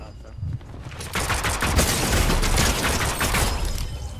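Pistol fire in a Fortnite Bedwars match, a dense, loud stretch of rapid shots and crackling impacts that runs on for several seconds after a brief quieter start.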